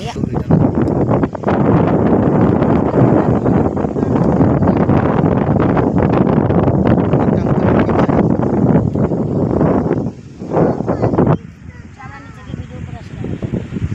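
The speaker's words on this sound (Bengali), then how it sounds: "এখানে হাওয়াটা দেয় প্রচুর" Strong sea wind at a beach roars and buffets against the microphone in a loud, continuous rush, then drops off sharply near the end as voices come through faintly.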